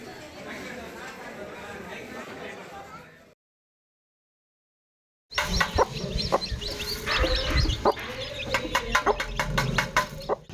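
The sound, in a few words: hen clucking with chick born without eyes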